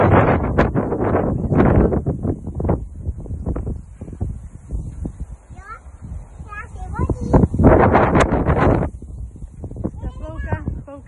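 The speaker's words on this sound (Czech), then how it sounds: "Vítr, že? Hodně." Strong outdoor wind buffeting the microphone in loud, rumbling gusts, close and continuous, while people talk over it.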